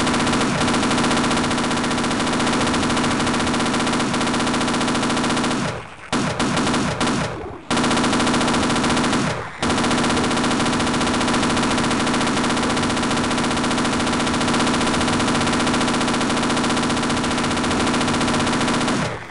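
Automated turret in Half-Life firing sustained, loud machine-gun bursts almost without pause, with brief gaps around the middle before the relentless stream of gunfire resumes.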